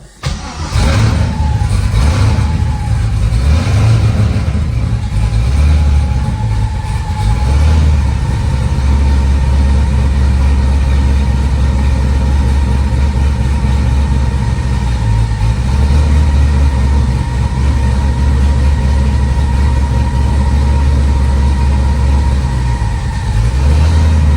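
A car engine cranks and catches with a brief rev, then settles into a steady, close, moderately loud idle for the rest of the time while a clutch is tested, with no talk; the car is being prepared for a rally.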